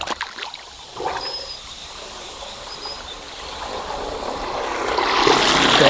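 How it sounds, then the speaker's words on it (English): Water rushing and trickling through a hydroelectric penstock pipe as a pipeline pig slides down it, a steady watery wash that swells louder toward the end, with no talk. "we'll let it go and you can listen to it slide down the pipe"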